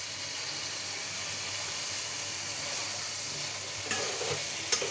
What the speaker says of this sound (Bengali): ঢাকনা দিয়ে ঢেকে পটল আলু কিছুক্ষণ কষিয়ে নিব